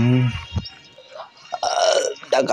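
A loud, drawn-out burp opens the clip, followed by softer throaty noises and breathy vocal sounds from the same person, close to the microphone.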